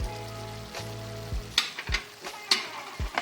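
Fried spice paste and tomato ketchup get stirred in a pan for a vegetarian aloo dum, with a steady sizzle and several sharp spoon scrapes and clinks at irregular intervals, close and fairly loud, with no talking.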